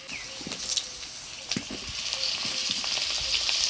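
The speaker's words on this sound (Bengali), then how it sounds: "আলুটা ফোড়নের তেলে নাড়াচাড়া করে নিলাম। এবারে দিয়ে দিব কাইটে রাখা বেগুন" Potatoes and eggplant fry in oil spiced with black cumin and dried chillies in a Bengali village kitchen, sizzling steadily up close with occasional scraping stirs, no talking.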